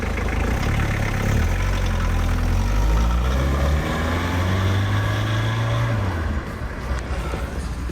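A tuned car engine is revved repeatedly, climbing steadily in pitch before it drops back, loud and close, with a faint voice in the background.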